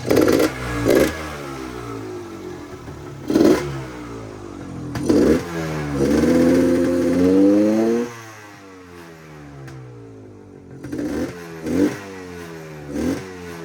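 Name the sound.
motorcycle engine idling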